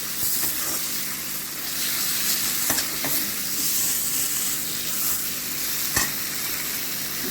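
Chicken sautés in oil for homestyle chicken sukka, a broad hissing sizzle that carries through the whole stretch, with occasional sharp clinks of a spoon against the pan.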